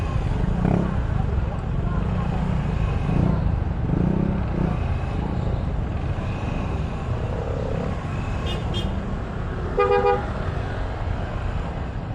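Busy street traffic near Riverbank in the Divisoria area, a constant rumble of engines with a couple of short car horn toots near the end, while people talk nearby.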